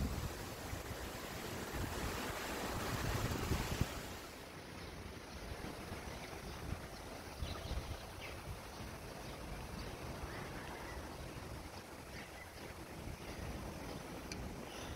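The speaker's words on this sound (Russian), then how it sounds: "Ветер усиливается." Wind blows through a front garden planted with hydrangeas and roses, a soft steady rushing that swells in a gust early on and then settles to a quieter, continuous breeze with no voices.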